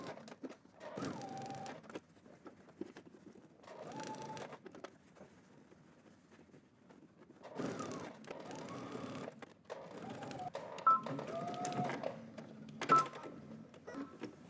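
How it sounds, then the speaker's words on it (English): A sewing machine stitches a garment closed along a 5/8 inch seam, running in several short bursts of soft whirring separated by quiet pauses and faint handling sounds. "So now let's head to the machine and we're just going to stitch all the way around, closing it out."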